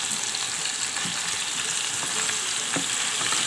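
Tandoori chicken fries in a covered pan, giving a steady, loud, bright sizzle with faint crackles and no talk.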